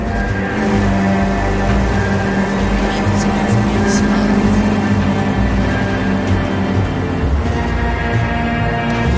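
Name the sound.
car driving in video game L.A. Noire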